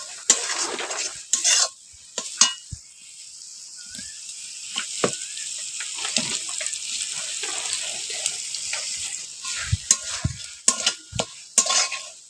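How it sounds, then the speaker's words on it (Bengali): Spice masala frying in a wok as it is stirred, with close scraping and clattering bursts over a soft, steady sizzle, no speech. "দেখো সব মশলা আমি দিয়ে দিয়েছি, দিয়ে ভালো করে মশলাটাকে"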